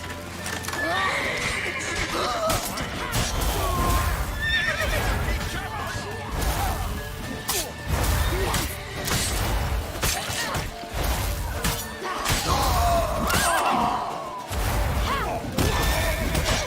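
Loud horse neighs and whinnies rise over clattering hooves, crashes and shouting voices in a chaotic, action-filled scene in The Witcher 3: Wild Hunt.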